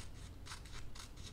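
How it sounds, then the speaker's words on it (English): Scissors snip through the white paper border of a collage page, several quick cuts in an even rhythm, close and fairly quiet, with no talking. "I'm going to cut the white border"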